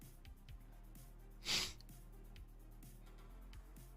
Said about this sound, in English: I hate that I sniff right into the mic